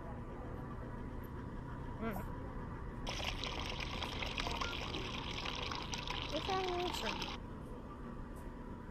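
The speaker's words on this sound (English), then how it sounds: "Pour it out into a cup and then we can serve it." Liquid pours into a cup inside the VR game Job Simulator, a steady hissing fill of about four seconds set against low background noise, with no talk over it.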